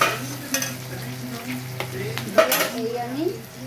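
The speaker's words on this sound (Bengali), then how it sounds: "এই একটু নাড়বো" Chicken, capsicum, onion, garlic, ginger and chilli fry in a pan with a soft, close sizzle, broken by a few stirring scrapes and a light clink of utensil on metal.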